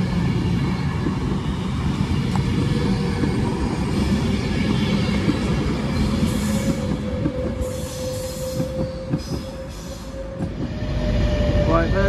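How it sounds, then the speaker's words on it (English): At Stoke-on-Trent station, an Avanti West Coast Class 390 train rumbles along the platform with a continuous wheel drone, squeals and sharp brake hisses, and faint talk now and then. "I believe this is the 1153 Avanti West Coast service to London Euston from Manchester Piccadilly."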